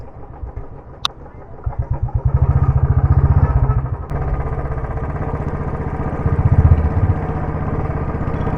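A motorcycle on an off-road ride toward Kolukkumalai starts up with a clatter, then its engine chugs in rapid, rhythmic pulses and revs up nearby as it sets off.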